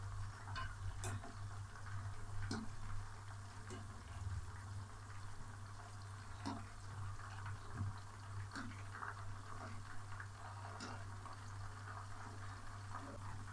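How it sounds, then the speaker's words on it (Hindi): Koftas sizzle in a pan of hot oil, a steady low frying hiss with scattered small pops and crackles throughout, fairly quiet and continuous with no talking. "कोफ्तों को हम पहले थोड़ी देर के लिए एक साइड से पकाएंगे और उसके बाद इसकी साइड चेंज कर देंगे।"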